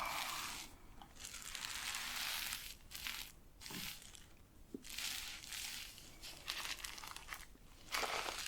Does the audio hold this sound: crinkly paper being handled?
yes